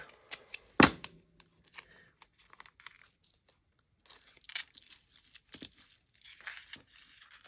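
Strip of craft tape torn from a roll while assembling a mixed-media collage: one sharp, close rip followed by scattered soft crinkles and rustles of paper and tape, with no talking.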